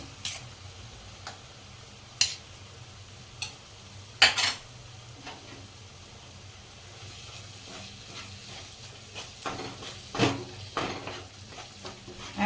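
Boiled, mashed potato frying in gravy for sev usal, a soft steady sizzle with occasional spoon stirs and scrapes against the pan, no voices.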